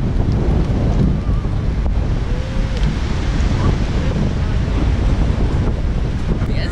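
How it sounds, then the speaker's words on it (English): Strong wind buffets the microphone outdoors on a vegetable farm, a loud continuous roar with rumbling gusts that fill the whole stretch, with no clear voices. "It's really windy out"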